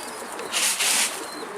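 Mardin tumbler pigeons coo softly at a short distance, a brief, breathy burst of calls with faint outdoor background noise and no talking.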